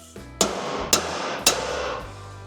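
A hammer strikes three times in a workshop, each blow a sharp metallic crack spaced roughly half a second apart, loud and close against a low background hum.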